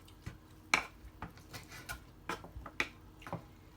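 A knife chopping onions taps against a cutting board in scattered, quiet chops, irregularly spaced, with light clinks in a hushed room.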